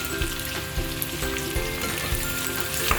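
Garlic and shallots fry steadily in hot oil until browned, giving a close, continuous crackling sizzle with small irregular pops throughout and no voices.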